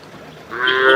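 A pregnant native cow at a Palayakottai cattle market lets out a low, swelling moo up close, rising in loudness over about half a second.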